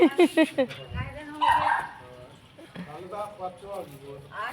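Several quick, sharp dog barks come close together at the start, then people talk and the barking fades into the background.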